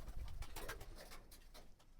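Pigeons on a pigeon farm give faint, muffled cooing with a few low rumbling thumps and scattered rustling, quiet and somewhat distant.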